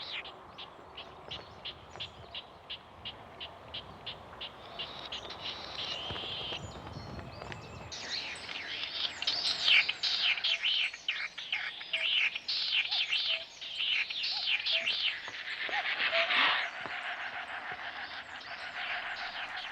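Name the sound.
snipe trilling from the ground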